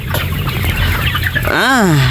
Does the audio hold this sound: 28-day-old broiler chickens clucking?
yes